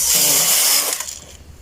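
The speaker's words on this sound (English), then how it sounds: "Now you see that I'm just knitting and the machine is knitting perfectly well." A knitting machine carriage makes one loud sliding swish and rattle as it knits a cast-on row made without a comb, with weights attached, and the sound fades out after about a second.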